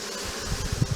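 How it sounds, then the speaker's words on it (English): Honeybees tipped into a hive box make a brief, close buzzing hum, loud and continuous over a single second, with low thumps as the colony drops in and no talk. "There go all the bees."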